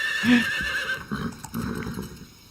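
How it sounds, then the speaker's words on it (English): A horse neighs loudly in a Metal Gear Solid 3 cutscene, a shrill whinny followed by snorts and a few hoof clops, close and clear with no talking. "Don't shoot the horse."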